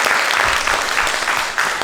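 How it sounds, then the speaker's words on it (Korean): Audience applause fills a lecture hall, a dense steady clapping that holds loud and even for its short duration. "저 큰 박수 한번 부탁드리겠습니다."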